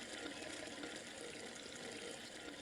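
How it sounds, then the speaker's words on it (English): Fountain water in the video game Gabriel Knight 3, a steady broadband rush like water pouring down a drain, constant and fairly close with no pauses. "I love this fountain. What a good fountain. This just sounds like water pouring down a drain."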